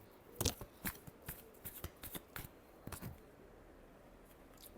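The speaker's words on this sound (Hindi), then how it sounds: "Last shuffle." Tarot cards being shuffled by hand, a series of quick close riffling bursts and soft card slaps in an irregular rhythm that trails off toward the end, with no talking.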